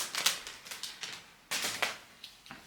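Cellophane being peeled from a fragrance box, with crisp crackling and crinkling bursts up close, a sharp rip near the middle, and short tearing sounds in between.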